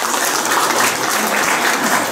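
Audience applause at a Korean arts federation's benefit concert for Korean War veterans, a steady dense wash of clapping that fills the short stretch without pause.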